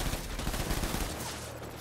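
Rapid, dense gunfire in Death Stranding, a crackling burst of shots that holds steady for about a second before thinning into a low rumble.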